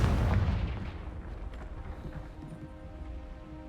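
A Confringo fire spell cast in Hogwarts Legacy bursts with a loud, booming blast up front, then fades into a crackling rumble with scattered small pops over several seconds.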